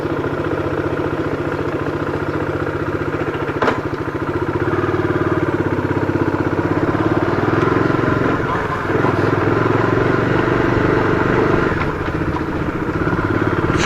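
Motorcycle engine running steadily at the start of a long ride, a continuous loud drone with slight swells in pitch and level throughout.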